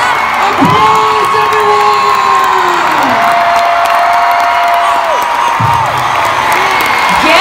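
A large crowd of children cheers and claps at the Kids' Choice Awards: loud, continuous roaring with high, wavering shrieks and whoops rising and falling over sustained applause.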